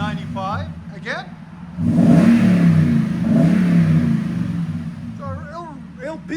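A 2021 Toyota Tundra 4x4 with its 5.7L V8 and Borla ProXS exhaust revs up from idle into a steady, loud drone that holds for several seconds. Someone talks briefly before and after the rev.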